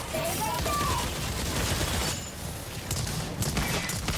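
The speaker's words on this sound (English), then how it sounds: "I like the sounds the guns make" Rapid weapon fire in the video game Exoprimal, a continuous dense fusillade of shots that is loud throughout, with a brief dip midway, under faint talk.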